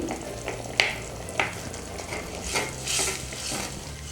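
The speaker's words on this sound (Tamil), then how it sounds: "இதை வந்து ஒரு வாட்டி கலந்து விட்டுருங்க உருளைக்கிழங்கை லைட்டாக மசிச்சு விட்டுருங்க" Boiled potato is stirred and lightly mashed in a pan of appalam kootu, with a spoon scraping and knocking against the metal several times over a faint, soft bubbling.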